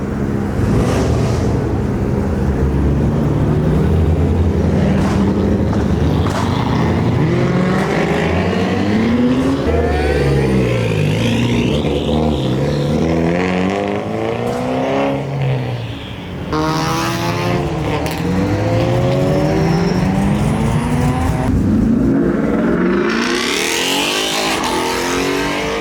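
An Audi RS3 at a car meet revs hard and repeatedly, loud rising and falling engine roars with crackling exhaust, close by, with other engines and crowd noise around it.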